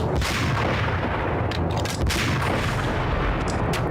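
Sniper rifle fire in Max Payne, heavy booming shots buried in a continuous roar of battle noise, loud and dense across the whole stretch.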